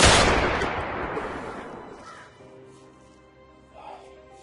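One loud volley from a firing squad cracks at the start and fades into a long decaying echo, leaving faint lingering tones.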